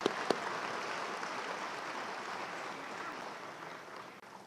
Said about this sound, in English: Can we give these individuals a round of applause?